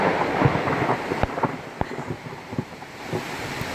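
Heavy rain and gusting wind batter the outdoors during a thunderstorm at a deer-scouting site, a dense continuous wash with sharp cracks and thumps of drops and gusts close to the microphone, no speech.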